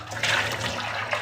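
Tap water runs briefly while a glass is washed in a home kitchen, a close, hissing splash with no voices.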